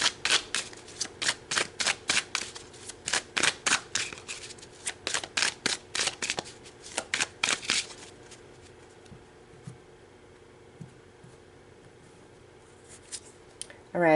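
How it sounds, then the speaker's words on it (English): Tarot cards being shuffled and drawn: a quick run of crisp riffling bursts close by, then quieter, sparse card handling and a few soft taps near the end. "So let's pull some more cards."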